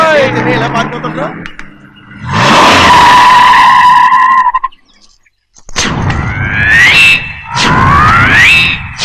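An airport taxi car in Vizag speeds off with loud, screeching tire squeals that rise and fall in several bursts, broken by a brief near-silent gap.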